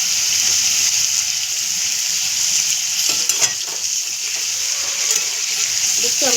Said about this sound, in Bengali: আমি কিন্তু চিকেনটা ভেজে নিচ্ছি